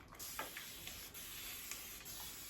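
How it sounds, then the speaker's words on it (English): A small fine-mist spritzer bottle sprays water over drying white paint on a faux quartz craft piece, giving a few soft airy hisses with short pumps, near and quiet, no talk. "I'm just gonna use my little spritzer bottle"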